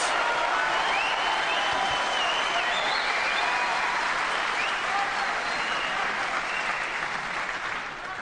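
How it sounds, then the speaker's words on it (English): Snooker crowd applauding Ronnie O'Sullivan's play in a match against Mark Selby: sustained, dense clapping from a large audience, loud and continuous for the whole stretch, tapering slightly at the end. "that was a fantastic response from this crowd, from that very good snooker that Ronnie played"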